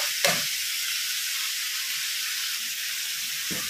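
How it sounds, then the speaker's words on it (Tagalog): Yogurt vegetable pasta being stirred in a hot pan, a constant steamy hiss and sizzle with a sharp scrape of the spoon at the start and another near the end. "Hayaan natin hanggang mga 2 to 3 minutes na ating hinahalo."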